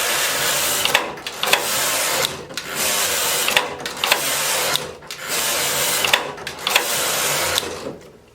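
Knitting machine carriage sliding back and forth across the needle bed while knitting rows of a ruffle scarf, a loud steady mechanical whir in repeated passes of about two seconds each, separated by brief pauses and clacks at each turn.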